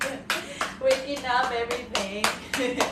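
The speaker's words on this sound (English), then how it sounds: "let's clap our hands" A class claps their hands together in a bodywork and fascial movement session, loud bursts of clapping in an uneven rhythm with someone speaking over them.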